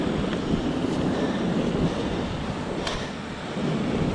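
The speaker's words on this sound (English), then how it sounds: "let's keep an eye on the waves" Ocean surf washes steadily onto a rocky shore during wrasse lure fishing, a continuous broadband roar with wind buffeting the microphone and no talk.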